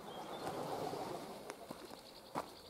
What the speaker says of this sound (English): There's a load of pigeons just away past above us.